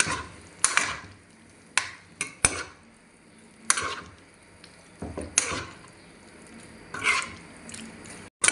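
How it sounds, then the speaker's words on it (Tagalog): A utensil scrapes and clinks around a pan in intermittent strokes while stirring chicken cashew in sauce, with a faint sizzle underneath. "Yan, haluin lang po natin."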